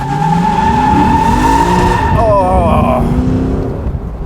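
A Lexus LC 500 Convertible launches hard: a loud, close engine roar climbs steeply with a sharp tire squeal through the middle, then eases off as the car pulls away.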